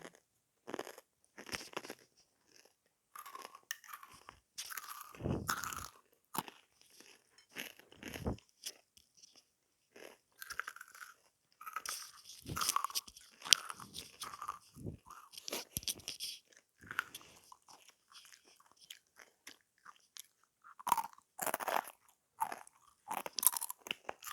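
Crunchy food being bitten and chewed up close, with repeated loud crisp crunches and chewing sounds running steadily for about twenty-four seconds, with no talking.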